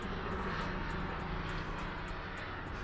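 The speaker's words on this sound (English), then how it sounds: "if you guys hear a lot of noise in the background as a fucking helicopter is flying by" A loud, steady engine roar from a helicopter passing overhead fills the whole stretch, constant and droning with no voices.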